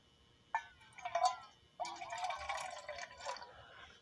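Water is poured into a cup in two short bursts, splashing then filling with a rising gurgle, close and fairly quiet.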